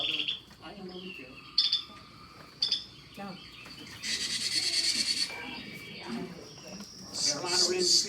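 Carolina Wren alarm calls come as short, harsh, buzzy chatters and chirps at moderate distance, interrupted by a person talking over them, with bursts of rasping calls in the second half.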